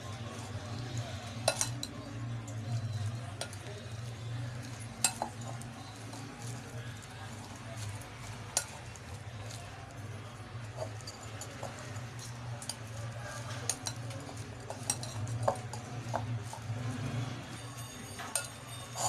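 Chicken sandwich masala with mayonnaise is stirred in a bowl, a spoon clinking and scraping irregularly against the dish under a steady low background hum.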